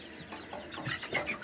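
Australorp chicks in a brooder give soft, high chirps and faint cheeps, a continuous busy chatter of small birds close by with no talking.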